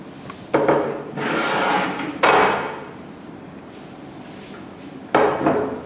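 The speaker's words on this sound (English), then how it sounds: "Got some lovely plates here." Plates handled in a kitchen, with several sharp ceramic clatters and knocks spaced a second or two apart, close by and fairly loud against a quiet room.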